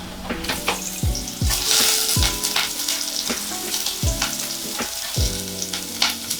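Garlic and shallot sizzle in a small heated pan, a loud continuous frying hiss broken by repeated scrapes and clinks of stirring, with no voices.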